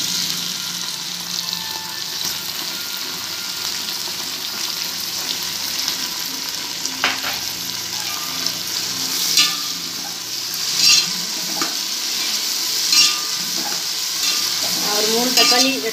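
Onions and tomatoes frying in a pan for mutton biryani, a steady close sizzle throughout with occasional spoon scrapes and stirring clinks, growing busier near the end.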